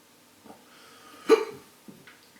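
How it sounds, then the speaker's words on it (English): Sharp hiccup right after eating a hot Trinidad Scorpion chilli, one loud, abrupt gulp in the middle with a few softer hiccup-like catches of breath around it, close and with no talking. "And straight away with the hiccups."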